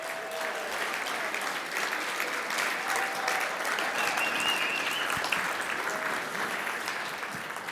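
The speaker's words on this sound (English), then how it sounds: "That one is worth just like clapping as long as you want." Steady applause from a banquet audience at an awards ceremony, sustained and even for several seconds, filling the room without any voices over it.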